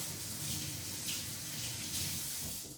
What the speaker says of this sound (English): I put on a plastic glove and then rinse it off just to get all the junk off that was manufactured with.